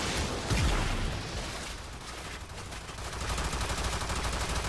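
Rapid gunfire from the video game Warframe, a dense, noisy crackle of shots running steadily throughout with a low thump near the start, no talking over it.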